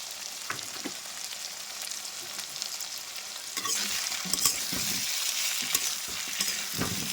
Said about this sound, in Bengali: তারপর পেঁয়াজ আর রসুনগুলো একসঙ্গে আমি ভেজে নেব